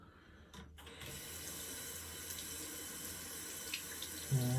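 Tap water runs steadily into a sink for a rinse during a shave, a close continuous hiss that starts after a brief knock and carries on evenly to the end.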